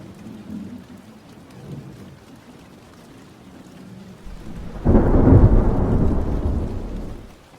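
Steady rain falls throughout with a low thunder rumble, and midway a louder roll of thunder swells and lingers before slowly fading, heard alone with no voices.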